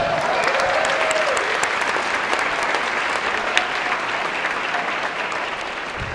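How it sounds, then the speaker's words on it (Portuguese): A group at a Christmas Secret Santa gathering claps continuously in a steady, lively round of applause, with a few whoops and voices mixed in. "Aplausos, galera."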